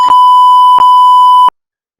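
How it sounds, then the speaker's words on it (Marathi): A censor bleep sounds: a loud, pure electronic tone held for about a second and a half, broken by two short clicks, then sudden silence. "बीप करते मम्मी"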